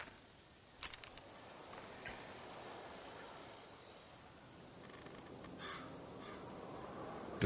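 A crow caws a few times in a forest scene from The Walking Dead video game, short harsh calls, fairly faint and spaced out over quiet outdoor ambience.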